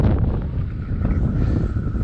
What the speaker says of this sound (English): extremely windy, so hopefully you can hear